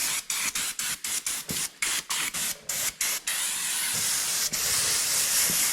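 Aerosol brake cleaner sprayed over a small block 350 engine block during paint prep, first in a string of short sharp hissing bursts, then one long continuous spray, close and loud with no talking.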